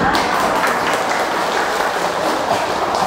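A temple audience in Da Nang applauds loudly after a song, a thick, even wash of clapping filling the whole short stretch.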